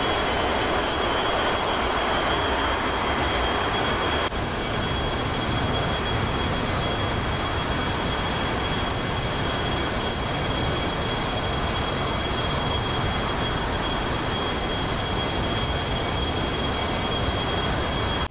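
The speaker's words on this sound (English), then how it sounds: "I'm going to thrust forwards, thrust up on both engines." Twin jet engines of a Su-30MK fighter spooling up to thrust in the DCS World flight simulator, a steady loud broadband roar with a high whine that holds throughout.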